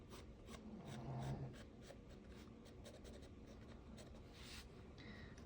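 A Derwent XL graphite block drawn lightly across paper, a soft steady scratch and rub of strokes at close range, quiet and continuous with no talking.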